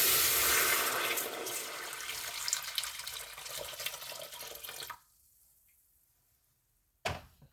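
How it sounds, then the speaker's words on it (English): Water pours into a cooking pan for cheddar broccoli soup, a loud steady splashing stream that stops abruptly, followed by near silence and a brief final clatter. "I'm going to add in my water."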